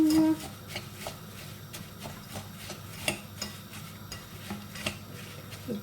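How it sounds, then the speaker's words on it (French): Parmesan being stirred into a carbonara mixture in a bowl, with a utensil scraping and tapping against the dish in a steady, close stirring rhythm, fairly quiet, with no one talking. "Je prends du parmesan que je mets dans mon bol. Et je mélange le tout."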